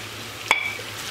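Chopped onions and green peppers sauté in a pot for a vegetable bulgur pilaf, giving a soft, steady sizzle with one sharp metallic clink of a stirring utensil partway through.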